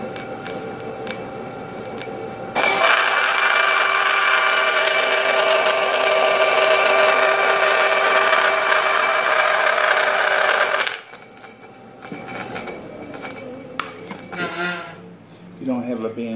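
A bandsaw cuts through a piece of ipe hardwood for a small mallet, a loud steady roaring whine for about eight seconds after a quieter running start, then the blade winds down with softer clatter and handling noises.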